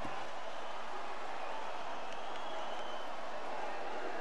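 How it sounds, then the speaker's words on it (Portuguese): Volleyball fans of Osasco roar steadily in an arena during a women's Superliga semifinal, a dense, continuous crowd wash of cheering with no distinct breaks. "Tá a loucura aqui da torcida de Osasco."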